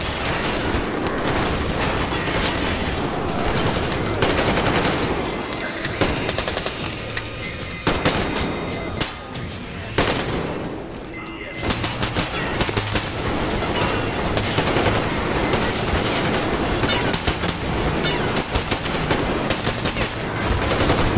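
Automatic rifle fire in the video game Metro Exodus, loud and near, rattling in long sustained bursts with brief pauses and a few heavier booms mixed in, continuous for about twenty seconds.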